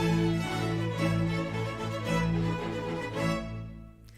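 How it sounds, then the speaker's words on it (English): An orchestral string section of violins, violas, cellos and basses plays a short lush passage, with sustained low bass notes beneath moving bowed phrases, moderately soft and unaccompanied, fading out at the close. "And now, this is how the strings sound."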